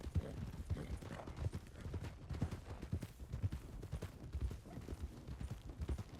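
Horse hooves clip-clop steadily in a ranch role-play video game, a continuous rhythmic trot of dull thuds heard up close over a low rumbling ambience.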